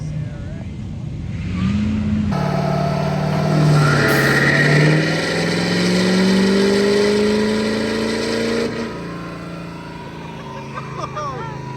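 A Duramax diesel pickup truck on a dyno revs up through a long rising pull, a loud, close engine roar with a whining climb that holds and then drops off sharply, while people talk faintly in the background.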